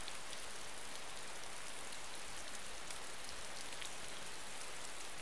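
Steady rain falls in a video game, a dense, even hiss of drops that holds without pause at a soft, constant level with no voices.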